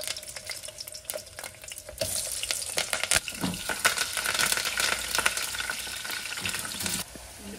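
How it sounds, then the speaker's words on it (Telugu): Chopped onions for tomato rice sizzle and fry in a hot pan with cinnamon and mint, a steady crackling hiss that swells as they hit the oil, with occasional stirring clatter and no talk. "మనం ఈ ఉల్లిపాయలు వేసేసుకోవచ్చు."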